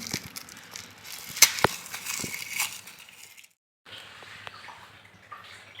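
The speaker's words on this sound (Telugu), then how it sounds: "ఇప్పుడే మామిడికాయలు అయితే కడిగాను" Raw mangoes are washed in water for pickle-making, giving splashing, sloshing and knocking sounds at close range, briefly pausing before the rinsing resumes more softly.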